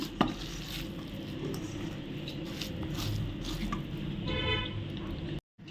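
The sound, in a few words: mixing sweet corn snack dough with rice flour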